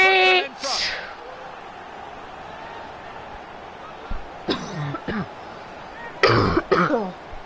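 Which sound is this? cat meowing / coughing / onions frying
coughing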